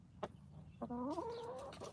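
A backyard hen gives a short cluck, then a drawn-out, quavering clucking call, close and fairly quiet with no talking over it.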